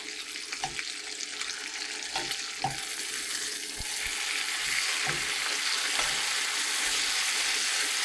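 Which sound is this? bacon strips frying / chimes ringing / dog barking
bacon strips frying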